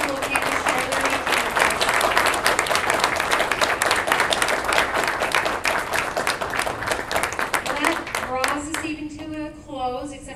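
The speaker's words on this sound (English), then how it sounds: "let's have a round of applause for all these people who came to share their names." An audience at a Republican women's forum for congressional candidates gives a loud, sustained round of applause that thins out near the end as a voice begins speaking.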